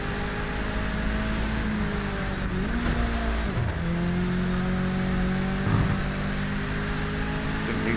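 Race car engine in the Project Motor Racing video game on Xbox Series X, a continuous loud drone that climbs in pitch, drops sharply at a gear shift, then climbs again.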